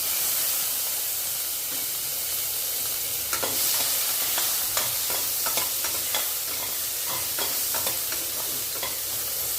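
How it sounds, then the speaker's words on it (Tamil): Onions and green chilies sautéing in hot oil with fennel seeds, a loud continuous sizzle and hiss with repeated stirring scrapes and spatula taps, close up and without speech. "சோம்பு பொரிச்சோன்ன வெங்காயம், பச்சை மிளகாய்"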